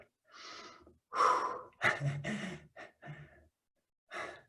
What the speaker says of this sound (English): I need to take a breath.